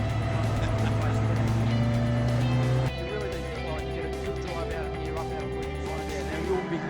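Porsche 944 race car held at full throttle through a corner on a road course, engine roaring loud and close with a steady pitch that drops as it shifts partway through, with commentary talk running over it.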